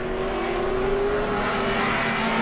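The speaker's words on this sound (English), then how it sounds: "coming in hot, the 24 car as well, and that Ford Falcon, Randy Dunphy." Race cars at a vintage racing festival, including a Ford Falcon, roar past on a track at Spokane with a steady, loud engine drone that sweeps slightly in pitch as they pass, with no talk over it.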